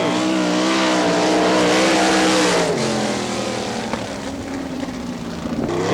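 An NCRA All Stars sprint race car roars loudly through its first lap at a Wichita, Kansas track, its engine note sustained and shifting in pitch as it powers around, with no voices.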